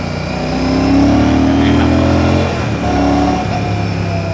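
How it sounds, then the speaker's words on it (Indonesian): A motorcycle with an aftermarket exhaust revs loudly close by, rising in pitch then dropping and revving again with a deep, throaty exhaust rumble. "Ini ganti knalpot suaranya cakep banget guys"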